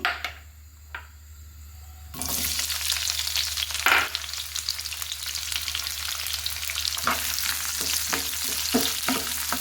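Onions frying in oil in a pan, a quiet start giving way to a strong, steady sizzle, with stirring scrapes and knocks scattered through it, louder toward the end.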